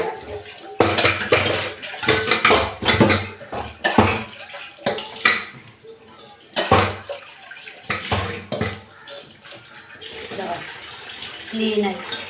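Metal tea and coffee pots being scrubbed and rinsed under running water in a home kitchen sink, with clattering vessel knocks and splashing in bursts, close and fairly loud, with some talking over it.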